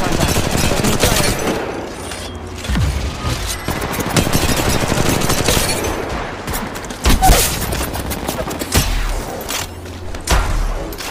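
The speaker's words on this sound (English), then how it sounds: "Opening fire." Bursts of automatic gunfire from a shooter in Apex Legends Mobile, loud and sustained across the whole stretch with rapid fusillades and heavy thumps, set against a busy, dense battle mix.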